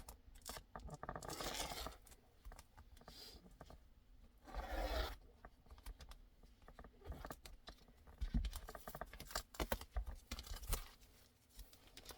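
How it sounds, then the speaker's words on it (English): Scissors snipping through fabric in short bursts, with rustling and handling noises between cuts, fairly close. "mark these corners and cut them with scissors"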